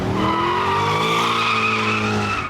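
A Corvette Z06 spins its rear tyres into smoke, producing a loud, continuous tyre squeal with layered whining tones over engine noise, held steady for a couple of seconds before cutting off abruptly.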